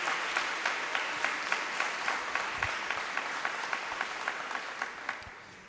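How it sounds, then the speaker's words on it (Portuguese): Congregation clapping at a church congress gathering, a rhythmic, steady round of applause with evenly spaced beats, fairly loud and sustained, easing off near the end with no talk over it. "Vamos dar uma salva de palmas para ele, para a Jurema, para os filhos dele."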